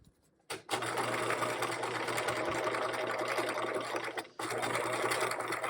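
A sewing machine runs steadily while stitching the side pocket of a caddy bag, one long continuous run after a brief start, with a short pause near the end before it picks up again; close and fairly loud, no voices.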